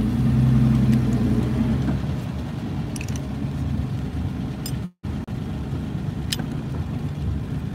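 A 1956 AC Ace driven fast, with a steady engine rumble and gear whine, mechanical rattles and clicks, and a brief dropout midway.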